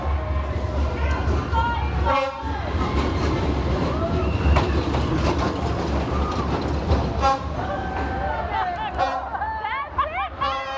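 A train rumbles and clacks past close by on a narrow residential street in Vietnam, with a crowd chattering around it throughout and a horn toot or two.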